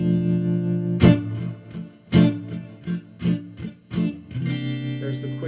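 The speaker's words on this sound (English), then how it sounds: "I'm going to play through it, 12-bar blues." Electric guitar with effects plays a slow 12-bar blues, with sustained chords and a few sharp strummed accents, fairly close and alone.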